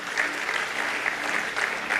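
A church congregation applauds for Jesus during a sermon, a dense, even wash of clapping from many hands that holds steady throughout, close and fairly loud.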